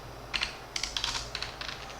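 Light typing on a computer keyboard while writing code in an IDE, a few quick bursts of soft key clicks with short pauses between them, close and fairly quiet.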